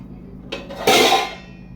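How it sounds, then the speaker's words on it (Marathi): Steel cooking vessels clatter in a home kitchen, a brief metallic clink followed by a louder half-second clang that rings and fades, close and sharp, with no talk. "हळूहळू आवाज नको करू भांड्यांचा"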